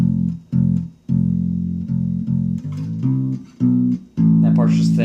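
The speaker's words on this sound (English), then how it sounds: "So it sounds like this." Bass guitar plays a melodic fill from a song's bass line, a run of distinct low sustained notes with short gaps, loud and close, ending on a longer held note with some string buzz.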